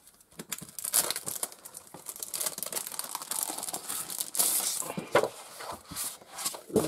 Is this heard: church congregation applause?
no